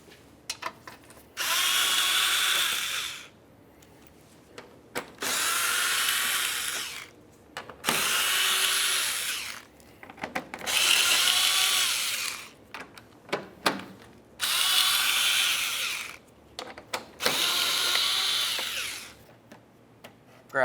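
A power drill spins bolts out of the plastic under-car panel below the grille of a 2012–2017 Toyota Camry in six loud, steady bursts of about two seconds each, with short clicks and handling noise between them.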